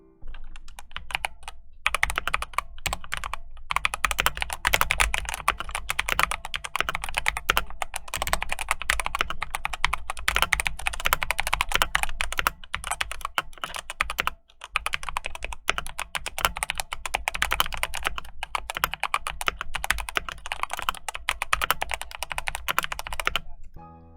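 Steady, continuous typing on an inexpensive E-Yooso K-620 hot-swap mechanical keyboard with lubed switches, heard up close with dense, even key clacks and no talking.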